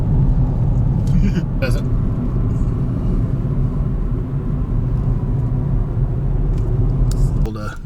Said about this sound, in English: military truck here.